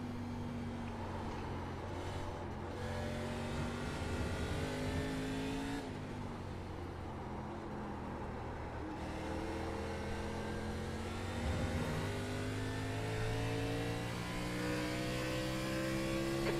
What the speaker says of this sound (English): Just just a race car backing across the racetrack.